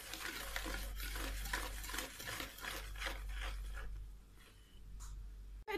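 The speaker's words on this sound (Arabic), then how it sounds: "نخلطوا هاد المقادير كامل بالفوي باش ينسجموا" Semolina, flour, sugar, yeast and salt are whisked together in a bowl, making a soft, rhythmic dry scratching that repeats for several seconds, then fades near the end, with no talking.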